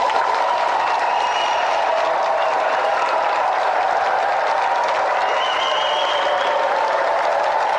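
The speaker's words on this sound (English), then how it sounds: "let's give him another round of applause anyway" A studio audience at a retro TV video-game show applauds steadily, a dense even wash of clapping with faint whoops, holding at constant loudness throughout.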